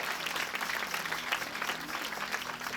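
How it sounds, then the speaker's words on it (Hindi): An audience at a spiritual gathering clapping for themselves, a continuous dense patter of many hands at an even level throughout, with no one speaking. "एक बार खुद के लिए ताली बजा लो।"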